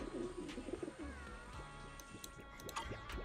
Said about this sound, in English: Is that a pigeon I hear?